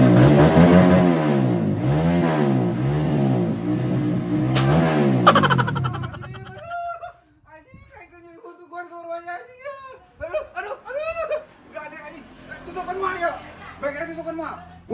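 Motorcycle engine revving in rhythmic surges at a repair workshop, loud for several seconds before cutting out, followed by people talking and exclaiming.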